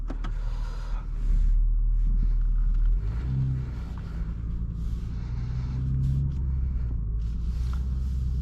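A 2025 BMW M240i xDrive drives on the road, its engine rumbling steadily up close, with a louder surge of acceleration early on and road and engine noise carrying through to the end.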